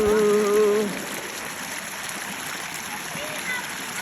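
Steady rushing of a flowing river fills the background on an evening outing, with a brief tonal voice-like sound near the start.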